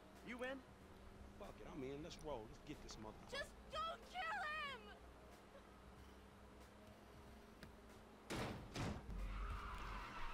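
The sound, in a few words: car skidding and crashing in GTA 5 video game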